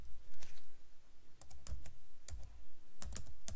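Keys on a computer keyboard are struck in short bursts of crisp clicks with pauses between them, close and clear and with no voices.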